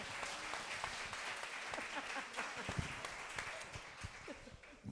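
An audience at an e-commerce talk on marketplaces in León claps steadily, a dense, moderately distant applause that fills the whole stretch without a break.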